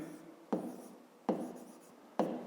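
Chalk strikes a board three times as numbers are written for a school math exercise, each stroke a sharp tap followed by a short scratch, close and fairly quiet.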